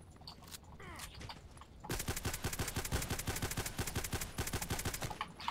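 GSH-18 pistol gunfire in the shooter game Contact Wars: after some quieter game noise, a long run of rapid, evenly spaced shots cracks loudly up close for several seconds.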